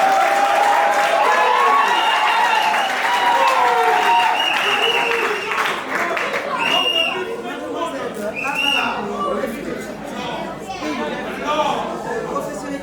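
Wedding guests clap at an official marriage ceremony in Brazzaville, Congo. The dense, steady applause fills the room and is mixed with crowd chatter and voices, then thins out and grows more scattered toward the end.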